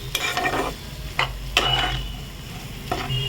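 Spices fry in a pan while a spoon stirs them, giving close scraping strokes at irregular intervals over a low, steady sizzle, with a faint clink of utensil on metal and no talking.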